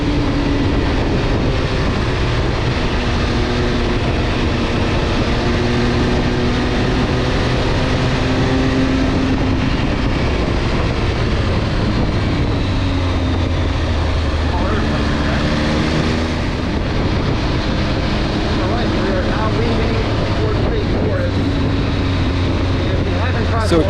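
An MV Agusta Enduro Veloce motorcycle rides through Pennsylvania mountain roads near Forbes State Forest. The engine note rises and falls with the throttle under heavy, constant wind rush, loud and close throughout.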